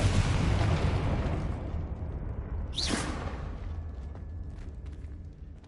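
A Confringo blasting curse detonates in Hogwarts Legacy, with a loud noisy blast that fades out, then a sharp whooshing burst near the middle. The sound is close and fills the scene.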